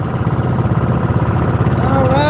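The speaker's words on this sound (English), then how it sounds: "Away from all that engine noise." A boat engine drones steadily at a low pitch, heard from the quieter front of the boat, a continuous throbbing rumble that stays even throughout, with a voice talking over it.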